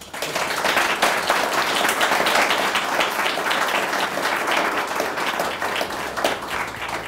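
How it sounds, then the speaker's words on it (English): Steady, dense applause from a sizable audience after a business panel discussion, many hands clapping together at an even loudness for several seconds with no break. "I think they deserve a round of applause."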